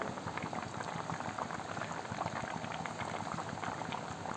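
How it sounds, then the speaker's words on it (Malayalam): Thick small mackerel fish curry bubbles and pops steadily in a pot, a continuous close simmering gurgle with no voices. "കറിയെല്ലാം ഇവിടെ നന്നായിട്ട് തിളച്ച് വന്നിട്ടുണ്ട്"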